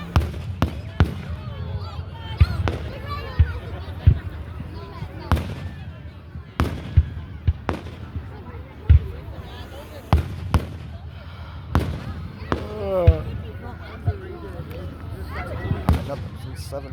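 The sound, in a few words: Canada Day town fireworks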